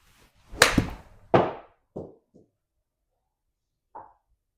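Golf club striking a golf ball outdoors, a sharp close impact followed by a few fading thuds and a faint later tap, short and isolated against silence.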